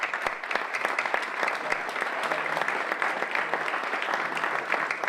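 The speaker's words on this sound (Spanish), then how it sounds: "Voy a pedir un aplauso para Severino y os voy a dar la palabra" An audience at a book presentation in Barbastro applauds, a steady patter of clapping with distinct individual hand claps standing out, moderately loud and without talk.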